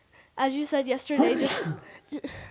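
A person sneezes loudly mid-conversation in a home, the burst cutting through ongoing speech, with people talking before and after it.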